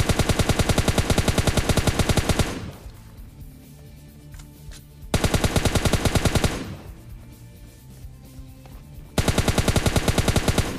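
Rapid automatic gunfire in PUBG Lite rattles in two long bursts, separated by quieter stretches of faint game background noise.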